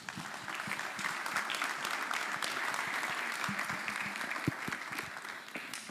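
Audience applause at a career expo launch, a dense, steady wash of many hands clapping at an even level from start to finish, with no voices over it.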